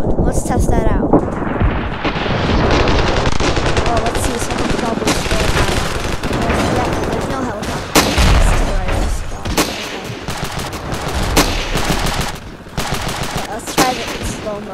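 Dense gunfire in the Ravenfield video game slowed down, a continuous roar of stretched, booming shots and rattling bursts, loud and close throughout.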